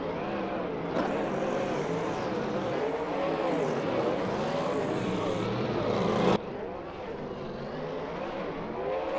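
BMW E90 drift cars battle on track at the Drift Corner Grand Prix, Round 2 at Castellet, with a loud, continuous engine roar whose pitch wavers and surges, then drops abruptly near the end.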